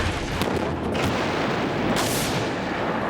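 Big explosions roar as dense, loud broadband booms and rumbling blasts, sustained for a few seconds with sharp surges near the start and again midway, with no voices.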